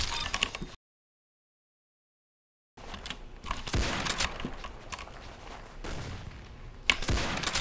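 Gunshots in a first-person shooter video game during a one-on-one match, a few sharp loud bursts after a brief silence, close and punchy over busy game ambience.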